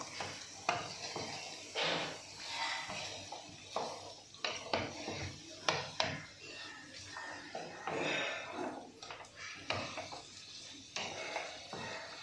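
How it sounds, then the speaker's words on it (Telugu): A spoon scrapes and clinks against a pan while kaju chicken fry is stirred, producing irregular metallic taps and scraping with a soft sizzle underneath, fairly quiet and close. "ఒకసారి బాగా కలుపుకుందాం."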